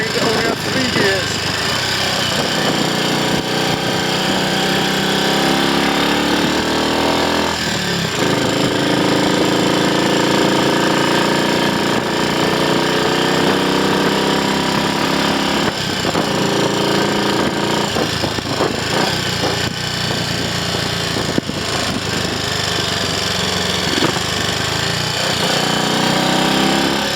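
A Triumph Scrambles Cub replica motorcycle engine on a road test after clutch and gearbox work, a loud, steady single-cylinder drone with a rapid rattling beat that runs unbroken and shifts pitch slightly as it revs.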